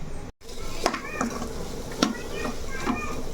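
Food frying in a pan, a continuous close sizzle with several sharp stirring scrapes and clatters at irregular intervals and a momentary dropout near the start.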